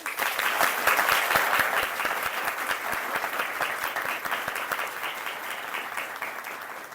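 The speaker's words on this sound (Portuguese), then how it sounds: "uma salva de palmas" A steady round of applause from a gathered group at a talk, dense clapping sustained throughout at moderate level, slowly easing toward the end, with no talking over it.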